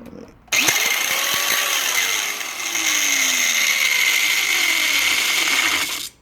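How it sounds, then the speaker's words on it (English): An angle grinder with broken gears, damaged while cutting a car's fender well, spins up loud and close with a harsh grinding rattle and whine, wavering slightly in pitch, and runs about five and a half seconds before stopping abruptly. "I guess the wheel well defeated the angle grinder and doesn't work anymore."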